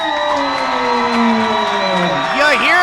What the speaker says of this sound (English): You hear the crowd's reaction.